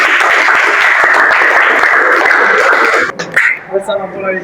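Audience applause for group 4 in an Indonesian classroom session, dense clapping for about three seconds before it stops and a voice starts talking.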